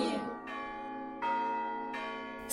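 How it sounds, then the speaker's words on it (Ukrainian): Church bells peal for Easter in Ukraine, several bright strikes in a steady, unhurried rhythm, each ringing out with a long, overlapping resonant hum; loud and close, with no voices. "дзвони б'ють"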